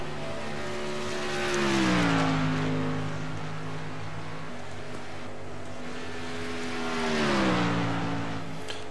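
An Xfinity Series stock car engine on a hot lap at Kentucky, a loud steady roar whose pitch drops and swells twice as the car lifts and accelerates through the corners.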